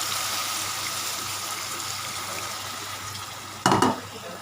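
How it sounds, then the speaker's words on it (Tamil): Water splashes into a cooking pot of lotus stem gravy, a steady moderate pouring hiss with a brief louder splash near the end. "தண்ணி ஒரு 3 கிளாஸ் ஊற்றுங்க."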